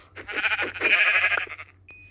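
Sheep bleating in Minecraft, a wavering blocky-game animal cry lasting over a second, loud and close, with no talk over it.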